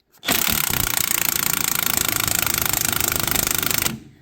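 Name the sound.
impact wrench on shock absorber nut, Dodge Dakota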